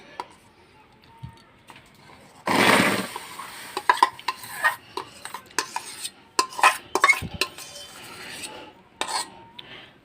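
A spoon scrapes and taps raw mango pulp into a wok for mango papad, making a burst of wet scraping followed by scattered close clinks and metallic scrapes against the pan.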